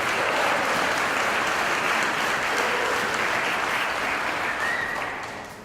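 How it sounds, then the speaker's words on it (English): Steady, dense applause from an audience at a mentoring program kickoff carries on throughout and starts tapering off right at the end. "Please give them a round of applause."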